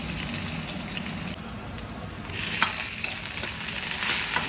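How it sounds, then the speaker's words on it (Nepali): Onion, chilli, ginger and garlic fry in a pan, a steady sizzle that jumps louder midway into a brighter, crackling hiss with occasional stirring scrapes. "यसलाई चाहिँ हल्का हल्का ब्राउन हुने गरेर टक्क मस्त रोस्ट गर्छौँ है, मस्त फ्राई गर्छौँ"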